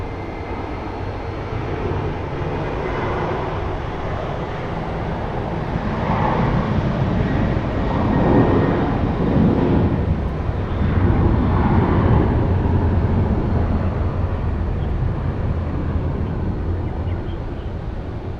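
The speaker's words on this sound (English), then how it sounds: "Next up is the Delta Airlines 737" Delta Airlines Boeing 737 airliner at Phoenix Sky Harbor International Airport, a steady, loud broadband engine roar that swells slightly midway and holds on without any talking.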